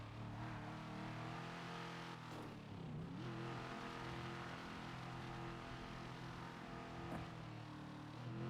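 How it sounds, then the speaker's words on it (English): A car engine in the video game NoPixel 4.0 roars and revs steadily, pitch dipping and climbing again midway, loud and continuous with no voices. "I love the way this car sounds."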